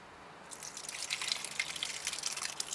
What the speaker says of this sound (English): as soon as you pour something in there, the juice is going to come straight out